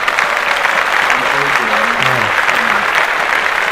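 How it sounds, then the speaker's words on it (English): Loud, dense applause from a crowd, continuous clapping filling the whole stretch, with faint voices underneath. "Clap that shit up."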